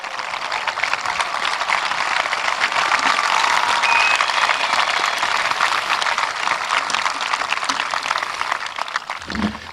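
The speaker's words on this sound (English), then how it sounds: "Clap for them." A high school graduation audience at Seneca High School claps continuously, a loud, dense crackle of many hands that holds steady for about ten seconds.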